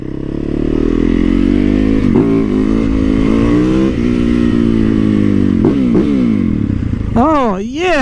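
A single-cylinder 450 motorcycle engine, a 2008–2015 KTM, revs loud and close with a steady throbbing idle and rising, swelling pulls, while someone talks excitedly over it.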